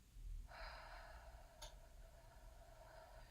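A slow, soft breath during a guided meditation, a faint airy hiss that swells and holds steadily for a few seconds over quiet low room noise, with one brief click partway through.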